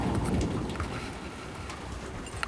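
Steady rain falls outdoors in a soaking downpour, a continuous broadband hiss with scattered drop patter, fairly loud and unbroken, with no voices.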